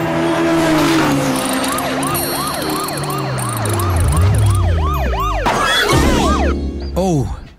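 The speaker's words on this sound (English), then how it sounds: "PC Pete and his police car Nick were making a special visit to Silverhatch Racetrack." A cartoon police car's siren wails in a fast, repeated rising-and-falling pattern, loud and close, with engine and vehicle noise underneath and a sharp clatter near the end.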